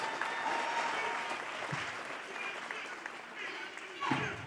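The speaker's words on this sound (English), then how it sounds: "One more time for Master P, y'all. Clap it up." Audience applause for Master P at a REVOLT Summit stage event, a steady sustained wash of clapping from a large crowd, with a brief louder swell near the end.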